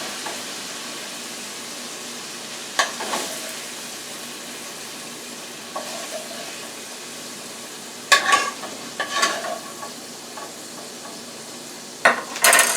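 Caramelized onions sizzling in a pan, a steady moderate hiss with occasional stirring and utensil knocks, near and without talk.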